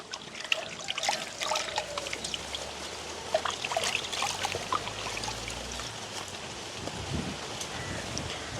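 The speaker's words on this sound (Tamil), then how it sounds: "தோல் சீவி எடுத்த மாங்காயை நல்ல வடிவாக நாங்கள் கழுவி எடுப்போம்" Peeled raw mango washed under running water outdoors in a village garden: a soft, continuous trickle and splash of water with small irregular drips, fairly faint and close.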